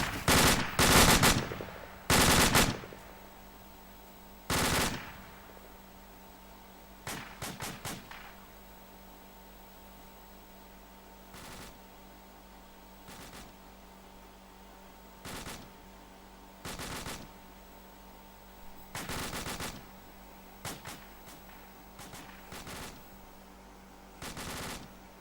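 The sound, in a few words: rapid rifle gunfire at a 100-meter firing range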